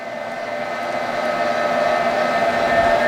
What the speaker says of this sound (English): These bacon ends grind up real easy,